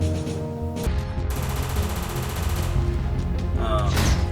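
Dubbed-in gunfire effects laid over airsoft gameplay footage come as a dense, sustained fusillade of rapid shots and booms, loud and continuous throughout, with a brief voice in the mix.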